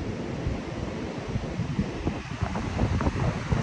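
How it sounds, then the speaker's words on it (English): Strong wind buffets the microphone at the beach at Brenton on Sea, a constant heavy rumble with gusts, and surf washing faintly underneath. "It's very, very windy, I apologize."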